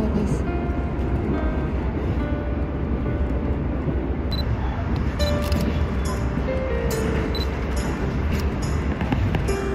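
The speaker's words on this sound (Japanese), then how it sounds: "大和駅を出た列車はゆったりと川に沿って走ります。" Train rolling slowly along the Aka River in the mountains, a steady rumbling run with faint clicks and squeals throughout, no talk over it.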